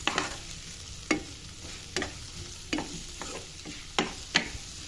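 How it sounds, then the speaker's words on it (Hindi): Onions fry with garlic in a pan for a chicken pizza topping: a quiet, steady sizzle punctuated by about eight sharp spatula scrapes at uneven intervals. "प्याज जो है थोड़ी हल्की ब्राउन भी होगी और सॉफ्ट भी होगी"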